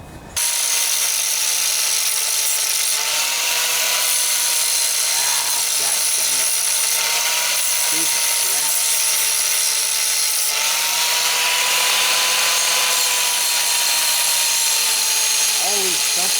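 A loud, steady power-tool whine of grinding off bolt heads on a Briggs and Stratton riding lawnmower engine flywheel, continuous and close throughout with slight pitch wavers.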